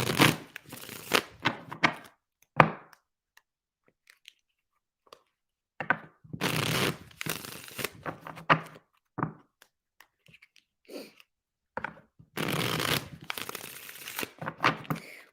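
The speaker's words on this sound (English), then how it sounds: "One more shuffle." Tarot cards are shuffled in several brisk riffling bursts separated by quiet gaps, with scattered taps and soft handling sounds between, close up.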